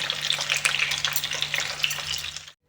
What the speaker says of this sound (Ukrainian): перевертаємо і продовжуємо смажити